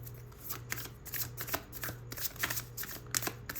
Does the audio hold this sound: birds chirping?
no